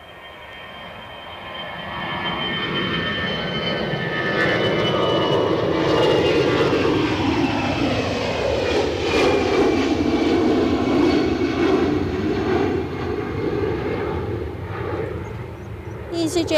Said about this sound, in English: It's a wee BizJet out heading out to Farnborough. Oh, is that the Falcon 2000 EX?